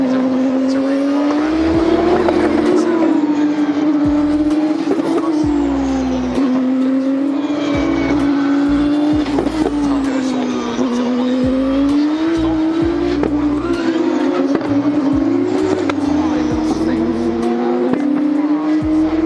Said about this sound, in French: J'espère que tous ces petits retours de flamme sur les Formule 2 vous ont plu.